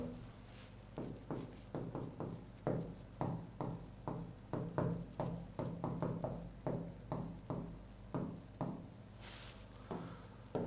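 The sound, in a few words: writing on a board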